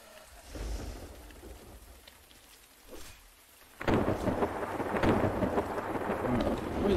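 Rain and thunder in the zombie game Zed Zone: low distant rumbles roll through the first seconds, then heavy rain bursts in and hisses loudly and steadily to the end.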